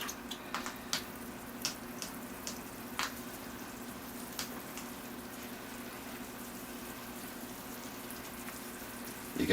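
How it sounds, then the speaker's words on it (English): Water poured from a watering can onto potted bonsai oak trees, a soft steady trickle and patter on soil with scattered small splashes and taps, faint and close, with no talking. "let's get out the watering can and give the trees a water."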